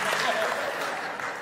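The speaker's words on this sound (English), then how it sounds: "don't clap at my problems." An audience claps steadily, a dense wash of applause with a voice faintly present underneath.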